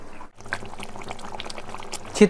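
Water poured into a pot of fish curry made with chital fish belly pieces, a short splashing pour heard close up under a faint hum.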